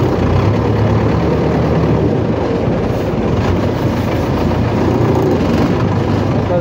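Tractor engine pulling a trailer whose handbrake was left on, a loud continuous low rumble and rattling drone, close and steady throughout with no voices.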